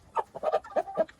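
Chickens clucking nearby at a market stall, a handful of short, uneven bursts close together and fairly loud, with no talking over them.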